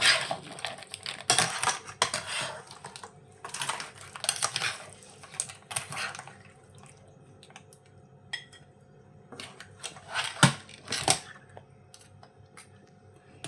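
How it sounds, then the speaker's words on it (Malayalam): Crab roast curry is moved into a dish and stirred. A metal spoon clinks and scrapes against the pots and dishes in irregular close taps and clatters, with quiet gaps between them. "നമുക്കിതൊരു പാത്രത്തിലോട്ട് മാറ്റാമേ പിന്നെ ഇളക്കി എടുക്കാം"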